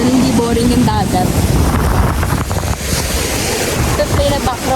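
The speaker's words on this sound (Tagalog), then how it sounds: "Oh, galit na galit ang waves." Rough sea waves crash on the shore with a loud, continuous churning roar and heavy wind buffeting the microphone, while a voice speaks and a tune is faintly hummed over it.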